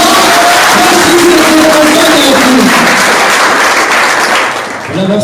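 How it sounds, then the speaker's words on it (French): A loud, dense burst of crowd applause at a French poetry event, many hands clapping steadily with some cheering mixed in before tapering slightly at the end. "Alors, sous vos applaudissements"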